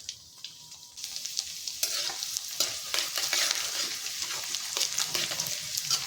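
A cinnamon stick, cumin seeds, a dried red chilli and chopped garlic crackle in hot oil over a medium flame, a close, busy sizzle that jumps louder after a quieter first second.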